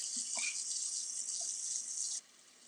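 Tap water running into a kitchen sink, a steady close rushing stream that cuts off abruptly near the end, leaving a quiet room.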